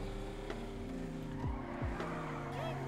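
A car driving around the city in the video game GTA V FiveM, with a steady engine hum and a few brief tire chirps and shifts, fairly quiet and close.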